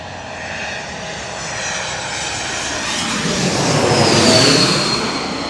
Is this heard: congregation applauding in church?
no